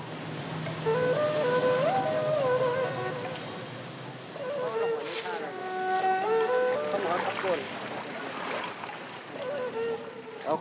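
A speedboat racing along the Mekong river, its motor droning steadily with shifting pitch while water rushes past the hull; someone narrates in French over the engine noise for most of the clip.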